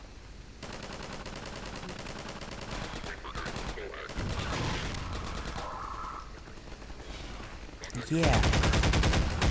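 Rapid automatic gunfire and weapon shots from the video game Half-Life 2 Episode 1 rattle on steadily, growing louder and denser near the end, with a brief spoken word and game sounds mixed in.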